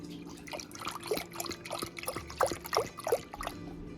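Two percent milk, a full liter, pours into a saucepan with a steady liquid trickle and glug, close up with small clinks and bumps, no voices.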